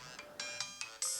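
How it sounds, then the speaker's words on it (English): A phone ringtone chimes in quick repeating electronic pulses, about five bright tones in a steady rhythm, fairly quiet and heard alone. "Sorry about the phone"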